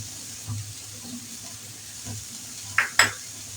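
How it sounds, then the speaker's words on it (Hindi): Vegetable filling with capsicum being stirred in a hot pan for chicken spring rolls, with a soft sizzle and light spatula movements, ending in two sharper scraping strokes. "ये देखिए इन तमाम चीज़ों को अच्छी तरह से मिक्स करिए"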